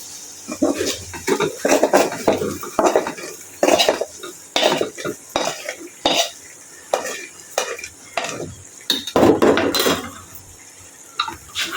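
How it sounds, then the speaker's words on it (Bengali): Fried potato, carrot and peas tipped into a pot and stirred for biryani: close, repeated metallic scraping and clanking of a spoon against the pot over a light sizzle, in uneven bursts throughout. "এর ভিতরে দিয়ে দিব ভাজি করা আলু, গাজর, মটরশুঁটি।"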